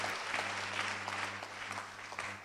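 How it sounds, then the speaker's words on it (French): A church congregation clapping in praise to Jesus, a steady rhythmic group applause with a low hum underneath, moderately faint. "Wij klappen voor de Heer"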